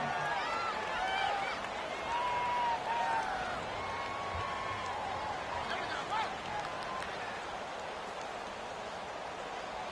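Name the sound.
stadium crowd cheering in a football video game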